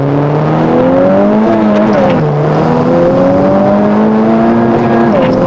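A blue turbocharged Honda Civic Type R accelerates hard. The engine drones loudly and continuously as its pitch climbs through the gears, dipping briefly at each shift, heard close from inside the car.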